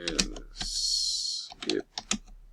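Quick keystrokes tapped on a computer keyboard, a few bursts of close clicks around a sustained hiss, fairly loud and alone without talk.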